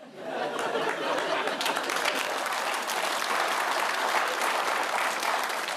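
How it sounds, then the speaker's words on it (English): Studio audience applause on a British comedy panel show, a dense, steady round of clapping that fills the whole stretch at full strength, with some chatter and laughter mixed in. "I can't believe that rubbish got a round of applause."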